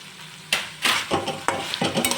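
Vegetables and tomatoes for upma are stirred in a sizzling pan, with several loud scraping sweeps of a spatula over a constant frying hiss, close by and with no voices.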